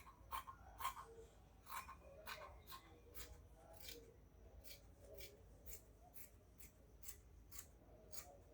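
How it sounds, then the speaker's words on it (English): Scissors snip through fabric for a bustier gown in a quick series of sharp, crisp cuts, close and clear, repeating steadily throughout with faint rustling between snips. "I'm going to go ahead and cut this out now."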